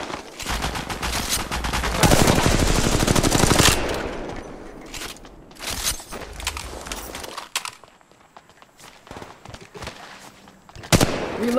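Bursts of automatic gunfire in the Apex Legends Mobile battle royale game, a long loud volley followed by scattered shorter shots and single cracks, with no one talking.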